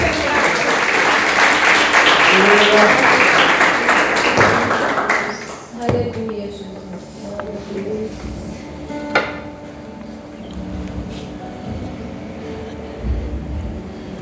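A church congregation at a Sunday service claps loudly for the first several seconds, then the applause fades and scattered taps, knocks and murmurs carry on at a lower level.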